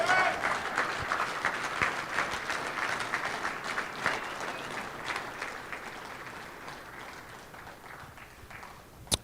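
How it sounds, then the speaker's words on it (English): Audience applause at a Louisiana high school sports hall of fame ceremony, a crowd of hands clapping loudly at first and gradually thinning and fading over several seconds, with a sharp tap at the very end. "Another round of applause for Coach Jay Roth."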